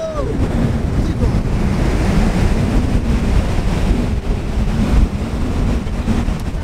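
Ocean waves and surf roll steadily onto a Malibu beach, a loud continuous wash with wind buffeting the microphone throughout.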